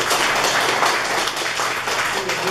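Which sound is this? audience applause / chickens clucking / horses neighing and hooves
audience applause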